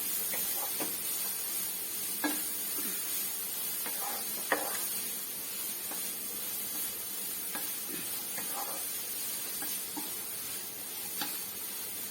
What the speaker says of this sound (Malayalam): ഇങ്ങനെ ഒന്ന് ഇളക്കി അതിനകത്തൊന്ന് വഴന്ന് വരട്ടെ.